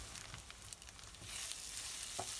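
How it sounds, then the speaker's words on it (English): Garlic, chili and fried tofu frying in oil in a skillet over medium-high heat, a faint crackle at first that rises into a steady hissing sizzle, with a few soft stirring taps. "Add the oil in the skillet over medium-high heat. Add garlic and chili. Stir for a minute. Add fried tofu."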